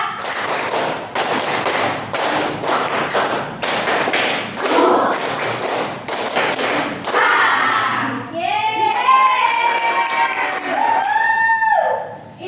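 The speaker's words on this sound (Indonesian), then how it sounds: "Tepuk tangan 1, 2," A class of students claps a rapid one, two, three pattern in a classroom, a run of loud, evenly spaced group claps, followed by children's voices and chatter rising afterward.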